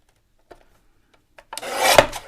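Paper strips being trimmed down with a cutter: a few faint taps, then a sustained close rasping scrape of the blade through paper for the last second.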